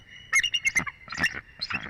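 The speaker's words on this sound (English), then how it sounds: "There's the peel call." A bald eagle's peal call, a series of high, sharp piping notes in short clustered bursts, fairly close and clear with no talk.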